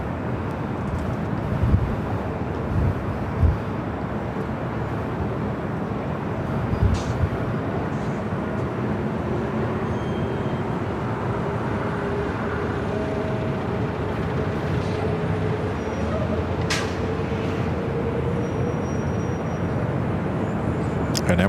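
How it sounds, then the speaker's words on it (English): Emirates airliner rolling down runway 24 left at Los Angeles airport for takeoff, a broad steady engine roar heard from a distance with wind buffeting and a few faint thumps. "And Emirates now rolling down to 24 left."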